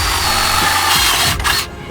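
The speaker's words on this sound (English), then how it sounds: "We're gonna do it with a 3/8 drill bit." A drill fitted with a 3/8 bit bores through a metal bracket for Hella 500FF lights on a Porsche 944, a steady loud close whir that dips and drops off near the end.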